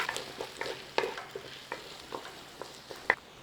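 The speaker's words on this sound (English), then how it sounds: "In there, your potatoes. Give them a nice coating up in that butter." Potatoes are tossed and coated in butter in a pan over low flame, with soft scraping stir strokes and light sizzling at a quiet, close level, plus a few sharper clicks of the utensil.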